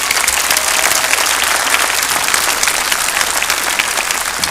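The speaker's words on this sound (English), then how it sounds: "So let's give them collectively a round of applause." Loud, steady applause from a high school commencement audience honoring the class officers, a dense continuous roar of many hands clapping at constant volume throughout.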